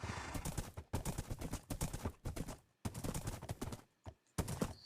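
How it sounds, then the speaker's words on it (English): Horse hooves clip-clopping in Minecraft as a rider travels along with a second horse on a lead at nighttime: a steady, brisk run of close, crisp hoof clops with a few brief pauses. "Now I'll leave him on a lead while I ride this horse."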